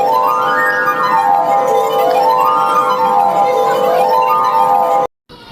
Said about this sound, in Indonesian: gelas menghasilkan bunyi dan bunyi yang dihasilkan berbeda-beda